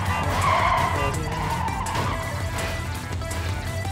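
Engine rumble and tire noise from trucks driving head-on in the game Clustertruck, a steady loud low drone with brief squeal-like swells, continuous throughout.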